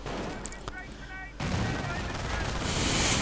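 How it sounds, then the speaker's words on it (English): A machine gun in a WWII strategy video game fires amid dense, continuous battle noise, with a sharp crack near the start and a thick roar building afterward. "MG opening up."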